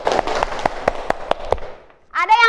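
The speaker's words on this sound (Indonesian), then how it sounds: "tepuk tangan dulu untuk kelompok 3" A class claps for group 3 in an Indonesian school lesson, roughly seven or eight crisp claps in a steady rhythm. The clapping trails off and a voice starts speaking close by.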